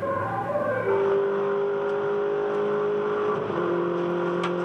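MINI Challenge race car engine revving hard on track during a 2010 race round, a steady loud high-pitched drone that dips briefly around a gear change, then climbs again, close and continuous with no talking.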